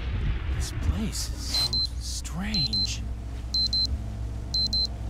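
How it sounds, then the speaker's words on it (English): Alarm clock ringing in the Dying Reborn video game, a series of repeated bright electronic beep bursts in pairs, moderately loud, with someone speaking near the start. "What's that noise? That's the alarm clock."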